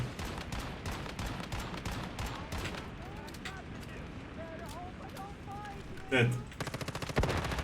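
Gunfire in the video game Once Human, with rapid automatic bursts and repeated shots, loud and close, while someone talks over the shooting.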